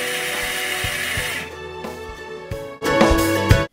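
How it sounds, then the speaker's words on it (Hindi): An electric grinder whirs through soaked urad dal, a loud motor drone that drops in pitch as it slows, then a brief louder burst before cutting off. "अब हम उड़द दाल को अच्छे से ग्राइंड कर लेंगे"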